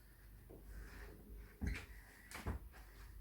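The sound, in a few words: door closing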